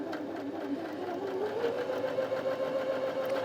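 Janome Sewist 725s sewing machine stitching steadily at its slow speed setting, a close, continuous mechanical whirr with a rising motor hum and no talk.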